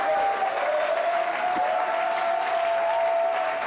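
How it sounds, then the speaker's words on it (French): Congregation at a church healing service applauding and cheering, a continuous roar of clapping with a sustained tonal hum running through it, loud and steady from start to finish. "Quelqu'un donne des acclamations, des acclamations, des acclamations"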